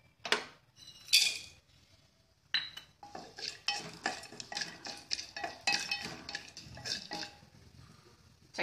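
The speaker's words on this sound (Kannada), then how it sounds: "1 ಸ್ಪೂನ್ ತುಪ್ಪ ಹಾಕ್ಕೊಂಡು ಚಕ್ಕೆ ಮೊಗ್ಗು ಹುರ್ಕೊಳ್ಳೋಣ." Spoon scraping and clinking against a pan while cinnamon and cloves fry in ghee, with a burst of metallic clatter early on, then a steady run of rhythmic stirring scrapes, close and moderately loud.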